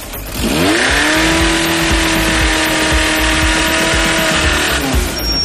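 Car engine revving hard while the clutch slips, a sustained high whine that rises quickly, holds loud and steady for several seconds, then drops away, close and with no talk.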